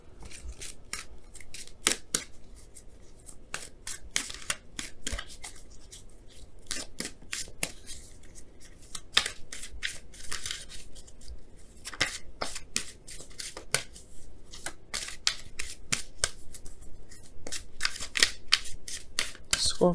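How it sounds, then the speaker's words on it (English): Romance Angels oracle cards shuffled by hand, a steady run of quick crisp riffling flicks and card slaps close up over about twenty seconds, with faint speech in the background. "we're gonna pull some Romance Angels cards to kind of get a better idea of what this, what's going on"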